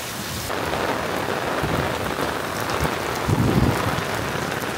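Heavy rain pours steadily on a farm field in Bangladesh, a dense constant roar close by, with low rumbles of thunder rolling underneath, strongest toward the end.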